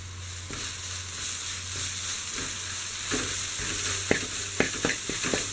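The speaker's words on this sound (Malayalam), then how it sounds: "അതും കൂടി ഒന്ന് ഫ്രൈ ആക്കിയെടുക്കാം" Onion and ginger garlic paste fry in a pan for egg biryani, a continuous close sizzle under a low hum, with sharp spatula-stirring clicks growing more frequent toward the end.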